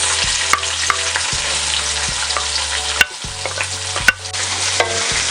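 Garlic sizzles in a pan as onion joins it, a constant loud frying hiss broken by repeated scrapes and clacks of a utensil stirring, with no talking.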